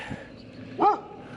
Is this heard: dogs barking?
yes